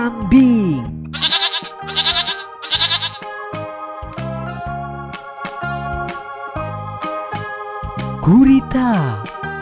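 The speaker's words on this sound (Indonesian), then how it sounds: "kambing" A goat bleats in short wavering cries at the start and again near the end, with a tonal, music-like bed running between the calls.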